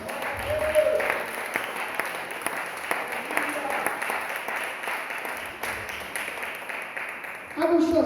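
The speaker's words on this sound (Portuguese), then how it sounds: "renda palmas ao Messias" Congregation at a church Feast of Tabernacles service applauding for the Messiah, a sustained dense roar of clapping that runs steadily throughout, with a voice and music entering near the end.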